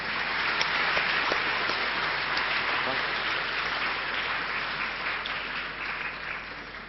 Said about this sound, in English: can you put together our hand to give a round of big applause to the Professor